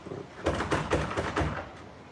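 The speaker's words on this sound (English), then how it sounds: "The dog just goes up to the door to start banging on the door" A dog bangs on a door to get outside: about five dull, evenly spaced thuds land in quick succession, close by, with a faint rattle and no voices.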